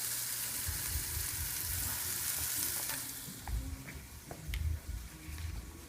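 Ghee melting and sizzling in a pan for chicken Marsala, a steady frying hiss that eases after three seconds into intermittent stirring clinks and scrapes, close and alone.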